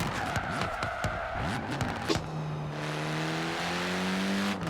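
A car braking and skidding in Forza Horizon, engine whine and a screech of tires that settles into a steady, sustained engine tone, close and fairly loud.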